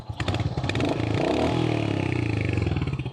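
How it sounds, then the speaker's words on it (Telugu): A Royal Enfield Hunter 350 motorcycle starts and settles into a steady idle, its low thumping exhaust loud and close, with a rising rev at the start and a rhythmic single-cylinder pulse throughout. "మనం ఇప్పుడు ఇంజిన్ ఆన్ చేస్తాం కదా, ఎగ్జాస్ట్ వినండి."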